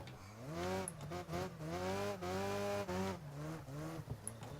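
In Wreckfest, a race car drifts through a turn after a fast straight on tarmac. The tires squeal in long, wavering, high-pitched wails over a revving engine, and the squeal breaks up and comes back several times.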